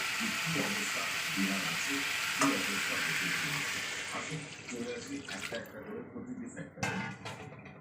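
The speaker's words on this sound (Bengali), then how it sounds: "এবার আমি অল্প জল দিয়ে দেবো।" A little water pours into a pot of curry, giving a loud close splash and sizzle that fades into softer bubbling and stirring, with a person talking faintly in the background.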